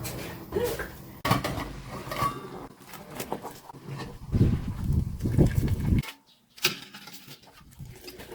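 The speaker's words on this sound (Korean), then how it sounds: "뚜껑을 몇 번 왔다 갔다 하는 거야" Metal pot lid clanking and scraping as it slides back and forth over a pot of simmering clam kalguksu broth with kelp, several irregular knocks and rattles at close range with no talk.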